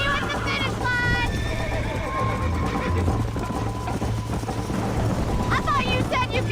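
Horses whinny several times over a steady rumble of galloping hooves during a horse race in the Western video game Red Dead Redemption, loud and continuous throughout.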